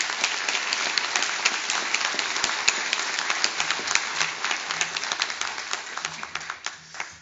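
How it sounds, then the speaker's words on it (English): Audience applause at a forum's morning session, a dense, steady roar of many hands clapping that holds for several seconds, then breaks up into scattered individual claps near the end. "Please give them one more round of applause."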